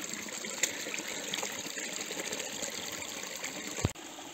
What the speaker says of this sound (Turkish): Zirveden gelen saf kar suyu.